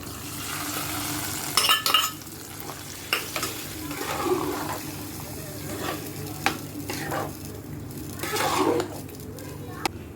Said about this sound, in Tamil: தாளிச்சதை வந்து நம்ம இதில் ஊற்றிக்கலாம்